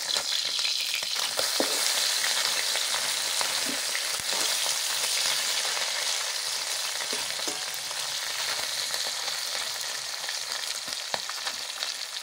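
Puti fish frying in hot mustard oil, a loud continuous sizzle and crackle up close, with occasional clinks and stirring noises and no talking.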